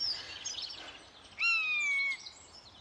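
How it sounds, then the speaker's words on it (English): Buzzards calling overhead above a spring garden: one clear, high mewing call drawn out and slightly falling, after a fainter call at the start, over quiet outdoor background. "Can you hear the buzzards?"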